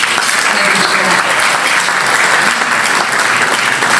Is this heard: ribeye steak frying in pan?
no